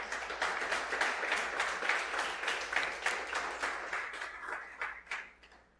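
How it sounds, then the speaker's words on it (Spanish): A church congregation breaks into sustained applause during a sermon, a dense wash of many hands clapping at moderate distance that gradually thins and fades out near the end. "Den un aplauso al Señor."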